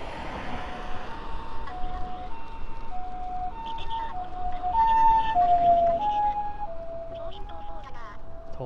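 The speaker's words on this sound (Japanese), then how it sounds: "パトカーじゃなかった、救急車聞こえてきた。" An ambulance siren wails in alternating tones, growing louder then fading as it passes at a distance, with people talking over road noise, recorded while cycling.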